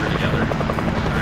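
Helicopter in the video game Call of Duty Warzone, a steady loud rotor drone filling the moment while players talk over it.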